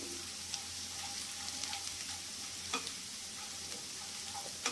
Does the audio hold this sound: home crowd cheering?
no